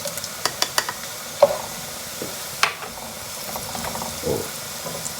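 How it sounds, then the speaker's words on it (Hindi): Whole spices such as black cardamom, bay leaf, cloves, cinnamon and cumin drop into a pan for matar pulao, a few sharp clicks and taps followed by a soft sizzle and faint stirring. "डाल रहा हूँ साबुत मसाले"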